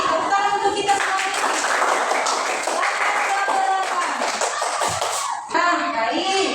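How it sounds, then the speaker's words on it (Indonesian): Children in a primary school classroom break into a burst of clapping that runs for several seconds, dense and close, with a brief pause before a few more claps and faint voices at the end. "Tepuk tangan untuk kita semua"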